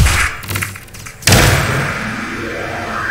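Small rockets blasting enemies in the Space Tower Defense game: a sharp, heavy thud-like explosion about midway, preceded by softer crackling blasts and followed by a long decaying rumble.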